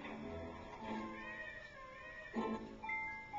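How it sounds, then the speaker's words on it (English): A wailing, baby-like cry in a video game rises and falls in a few bursts over a faint game soundtrack, moderately loud and close. "That sounds like a baby cry."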